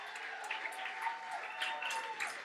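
Audience at a London poetry slam show applauding a performer, a soft, fairly distant wash of clapping with a few brighter cheers or whoops rising above it, steady for a couple of seconds.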